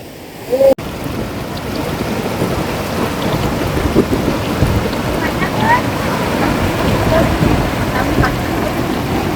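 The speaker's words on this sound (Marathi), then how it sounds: "पाण्याच्या निर्या आहे बघा निर्या म्हणजे लाटा बघा येतात पाण्याच्या" Wind-driven water waves wash steadily at Posare dam near Chiplun, a continuous broadband roar with rough gusty texture, loud and close throughout, with a brief bump near the start.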